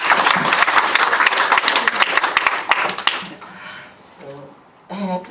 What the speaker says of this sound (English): Round of applause for God.